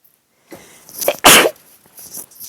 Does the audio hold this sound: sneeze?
yes